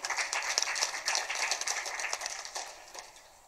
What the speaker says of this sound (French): je pense que ça mérite des applaudissements